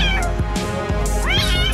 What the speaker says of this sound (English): The kitten had somehow gotten stuck in a washing machine. It's pretty mysterious. He was crying so loudly.